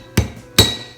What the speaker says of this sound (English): Hammer until the 2 white things meet each other.